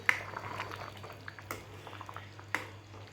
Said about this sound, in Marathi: आणि आता मंद गॅसवर ठेवून आता उकळून घेते भाजीला